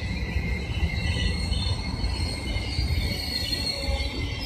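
An eastbound Amtrak heritage train rolls past with a continuous low rumble of wheels on rails and a thin metallic squeal, close and steady, with crickets faintly audible.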